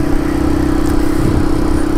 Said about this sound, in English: I'm on the Royal Enfield Classic 500.